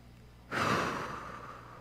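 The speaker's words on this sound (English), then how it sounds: "Everybody breathe deeply" A single deep, audible breath from a group of people rises suddenly and then slowly trails off as an airy exhale, fairly quiet, with no talking.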